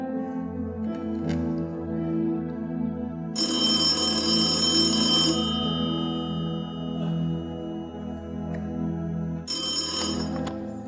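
Telephone ringing late at night in a Why Not comedy sketch, with two loud bursts of bright electronic ringing, one long and a second shorter one near the end, over a steady background.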